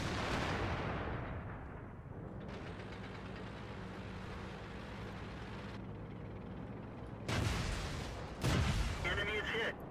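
Tank cannons fire in World of Tanks as two sharp heavy blasts over a rumbling engine drone, with a voice talking over it.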